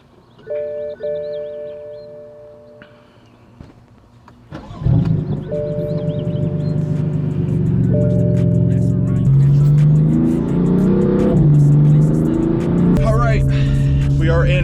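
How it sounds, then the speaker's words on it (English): A 2015 BMW M4 accelerates hard with a loud, rising engine note that swells and builds through gear changes, preceded by quieter cabin chimes at the start. "We are in our first drive in the 2015 BMW M4, and it's freaking fast."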